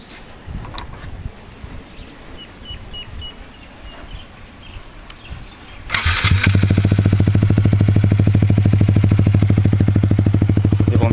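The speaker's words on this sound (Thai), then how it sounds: "เดี๋ยวผมจะมารีวิวเสียงท่อ SC Project คันนี้นะครับ" A Yamaha MT-15 motorcycle with an SC Project exhaust fires up after a few seconds of quiet outdoor rustle, then idles loud and steady with a deep, throbbing exhaust rumble, close by.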